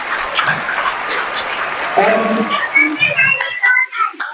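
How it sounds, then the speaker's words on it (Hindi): Crowd clapping at a business programme meeting, a sustained wash of applause with someone speaking over it through amplification, the clapping tapering off in the final second. "जोरदार तालियां होंगी।"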